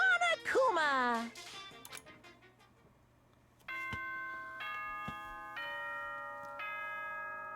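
A chime in the Danganronpa video game rings out as a series of clear, sustained bell-like tones, following a voice at the start, with each tone ringing on for about a second.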